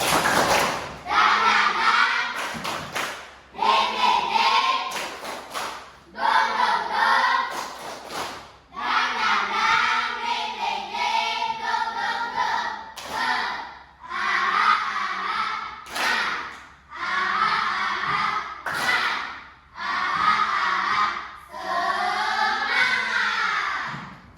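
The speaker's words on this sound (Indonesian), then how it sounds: "mari kita sekali lagi beri tepuk tangan untuk kita semuanya" Classroom group applause and rhythmic spirited clapping from students, loud and sustained in repeated bursts with crowd shouts mixed in, no talk over it.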